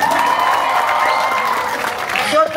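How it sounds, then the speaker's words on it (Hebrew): Audience applause at a sixth-grade graduation ceremony, a steady continuous wash of clapping hands sustained throughout, fairly loud with a slight swell near the end. "בואו נמחא כפיים"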